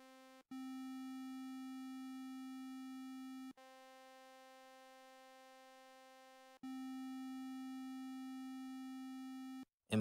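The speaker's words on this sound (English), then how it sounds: "These four oscillating shapes can be placed on top of each other through addition," A synthesizer plays layered oscillator tones built by adding waveforms together. Three steady, buzzy sustained notes follow one another, each a few seconds long, with short gaps between them.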